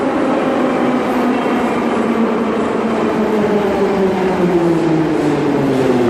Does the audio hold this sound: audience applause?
no